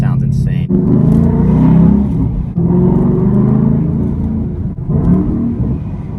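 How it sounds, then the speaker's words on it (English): A Mustang with a new exhaust revs up in several throaty pulls, its deep engine growl rising and falling up close. "We'll get a cold start and some revs on the Mustang with the new exhaust on."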